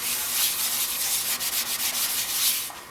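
A hackberry wood bowl with a flared rim sanded on a lathe at 320 grit, making a continuous close, even hissing rub with faint rhythmic pulsing as the piece spins.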